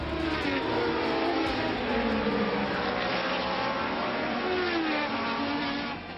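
Formula 1 race cars roar past on a circuit during a Grand Prix, a loud continuous engine howl with pitch sweeping up and down, dense and unbroken throughout with no voices over it.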